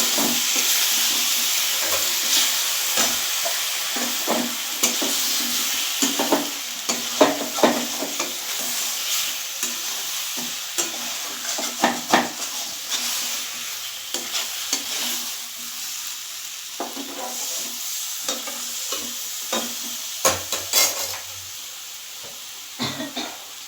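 Fish curry with winter vegetables sizzling and hissing steadily in a pan after water is added, with scattered scraping stirs and crackles, close and continuous throughout.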